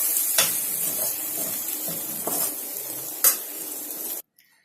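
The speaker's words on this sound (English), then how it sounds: "pour in the lemon juice and the garnish of coriander and give it one final mix" Potato bhaji with lemon juice and coriander gets a final stir in a pan off the heat: a soft sizzle with a few spoon scrapes and clinks against the pan, ending abruptly in silence.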